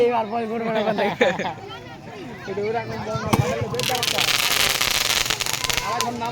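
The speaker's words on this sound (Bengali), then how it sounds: "আতশবাজি শুরু হয়ে গেছে।" Fireworks and firecrackers bursting at an outdoor sports event, a sharp bang followed by a dense, loud crackling barrage, with someone speaking over a crowd before and during the display.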